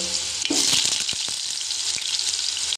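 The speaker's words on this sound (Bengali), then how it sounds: "কেটে রাখা আলুগুলো আমি একটু ভেজে নেব" Cut potatoes fry in a pan with a steady, loud sizzle. A few sharp stirring knocks come in the first half, and no one speaks.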